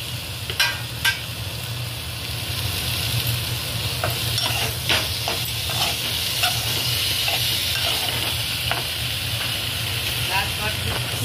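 Cumin paste and ginger paste sizzle in hot oil in a pan for a rohu fish curry, with a steady frying crackle, scattered utensil clicks and stirring, heard close, with a low hum beneath.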